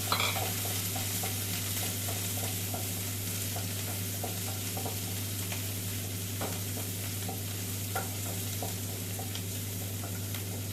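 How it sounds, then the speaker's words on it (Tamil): Shallots, large onions and green chillies frying in a pan for an egg and ridge gourd stir-fry, a steady close sizzle with frequent light stirring clicks and scrapes throughout, no talking. "ரெண்டுமே போட்டு நல்லா ஃப்ரை பண்ணிக்கலாம்"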